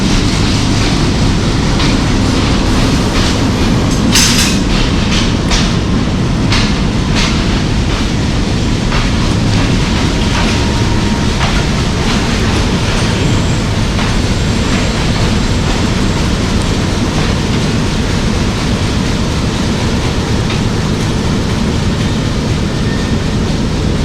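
A passenger train from Rawalpindi to Havelian, approaching Haripur Hazara in rain, rumbles along steadily with a dense low roar and faint rattling, continuous and close throughout, with a few brief sharper clicks early on.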